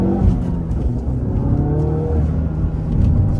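A Ford Focus RS engine revs hard under aggressive all-wheel-drive driving, a continuous loud, close roar that climbs and holds steady without pause.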